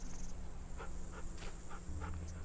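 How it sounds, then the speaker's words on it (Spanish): A dog in The Walking Dead video game pants softly in short rhythmic bursts of breath, faint against a steady background hum with no talking. "Uf, el perro."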